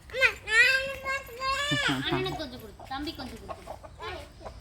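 Chickens cluck and squawk nearby in a busy run of calls, with voices talking over them.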